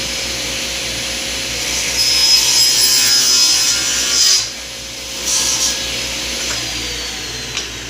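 A Shopsmith power saw cuts wood at a 45-degree angle, its motor holding a steady high whine while the blade rasps through the board in a louder swell, then eases off before a second brief cut.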